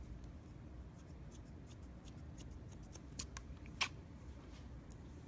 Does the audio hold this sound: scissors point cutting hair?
yes